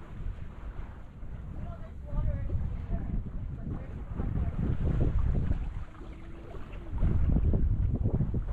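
Wind roars and buffets the microphone aboard a Catalina 27 sailboat, a steady loud rush that swells and eases with faint water movement beneath it.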